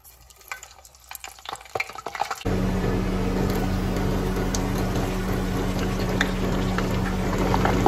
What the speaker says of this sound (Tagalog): Ready na natin siyang iprito